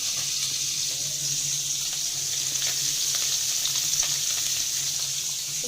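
Onion and garlic frying in a pan give a steady, even sizzle throughout, a continuous bright hiss with a faint low hum beneath, close and unbroken, with no talking.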